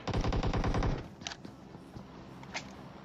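Close-range automatic gunfire in the video game PUBG: a loud rapid burst of about a second, then scattered fainter shots and impacts trailing off.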